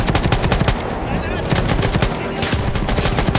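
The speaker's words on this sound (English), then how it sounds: "Bullets whizzing past your head" Rapid machine-gun fire and scattered shots crackle without pause in a first-person World War I video game set at the Battle of the Somme, loud and dense throughout.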